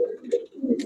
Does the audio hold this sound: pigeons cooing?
yes